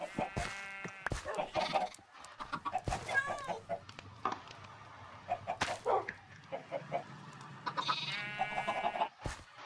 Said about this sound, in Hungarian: Patrik, itt egy kis csirke!